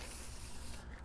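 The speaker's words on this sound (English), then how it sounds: "I also have a Stihl pruning saw, and I could probably spray this down a little bit" Aerosol lubricant sprays onto a Stihl pruning saw in one steady close hiss lasting nearly a second, then cuts off abruptly, with no talking.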